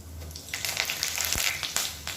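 Urad dal, asafoetida and curry leaves fry in hot oil for a chutney tempering, giving a steady close sizzle with bursts of spattering crackle and a brief stir, no talk.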